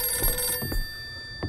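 A telephone rings in the horror game Visage, a couple of short bursts close and moderately loud, with a steady electronic tone held underneath.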